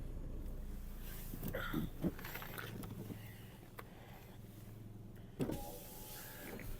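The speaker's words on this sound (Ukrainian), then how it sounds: "Скло підіймачі всі працюють." A 2007 Volkswagen Golf Plus 1.6 MPI's power window motor hums steadily as the glass moves, with a couple of soft clunks and clicks as it stops and starts.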